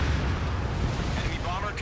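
Enemy bomber exploding in the flight combat game Ace Combat 7, a dense sustained rumbling blast filling the low end, loud and continuous with faint crackling debris toward the end.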